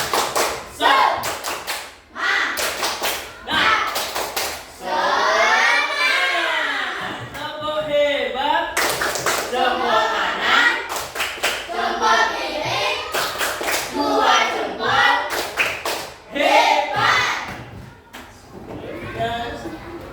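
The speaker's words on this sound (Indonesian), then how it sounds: "Tepuk semangat." A group claps a rhythmic cheer pattern in unison at a teacher training gathering, bursts of hand claps alternating with chanted voices, loud and close throughout.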